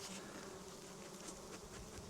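Honeybees buzzing at the entrance of a hive with brood rearing underway, a dense, steady swarm hum, close and continuous, with no voices.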